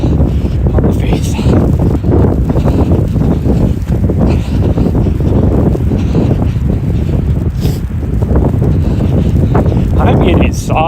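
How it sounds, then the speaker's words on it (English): Cold wind blows hard across the microphone during a snowy outdoor run, a loud, constant rushing buffet that fills the whole stretch without a break. "that wind is cold on the face"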